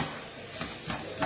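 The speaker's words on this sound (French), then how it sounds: "je mets tous mes légumes en même temps dans ma casserole. Je vais mélanger un petit peu." Onions, garlic and vegetables are stirred together in a saucepan, with a steady close sizzle and soft scraping strokes swelling in brief bursts across a short stretch, no voices.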